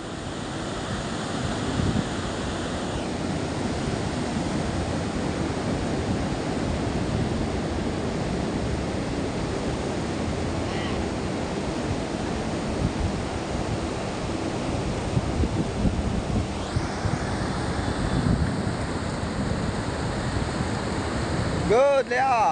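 Waves at Seminyak Beach in Bali at sunrise: a steady, loud wash of surf with strong wind buffeting the microphone throughout, with faint voices in the background.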